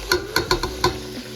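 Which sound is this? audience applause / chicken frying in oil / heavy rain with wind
chicken frying in oil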